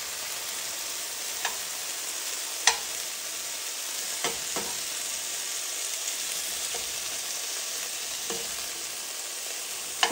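Ingredients for Thai ramen are stirred and mixed in a pan over a soft, steady sizzle, with a few sharp clicks of the utensil against the pan scattered through, and no talking.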